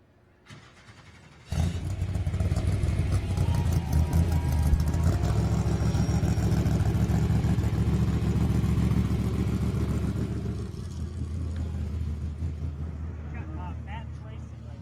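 A Trophy Truck race truck, Legend number 1L, rumbles loudly and steadily at a tech inspection at the 2019 SCORE San Felipe 250, the engine starting abruptly and running on with a heavy low drone that eases slightly near the end.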